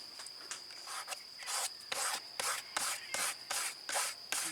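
A thumb rubs briskly back and forth over a performance chip for a 3rd-gen 4Runner, a steady series of about a dozen rhythmic, close scratchy strokes with a faint high whine running underneath.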